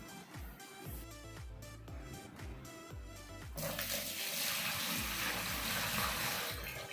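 Water rushes and swishes in a Milton Spotzero Prime spin mop bucket, a steady broadband wash that rises sharply midway and stays loud to the end, following a stretch of rhythmic, tonal background sound.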